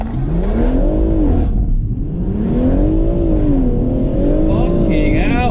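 A Stage 1+ BMW M140i with an XHP gearbox flash launches hard in sport mode, engine revving up through rising gears with brief shift dips, loud from inside the cabin while an occupant exclaims.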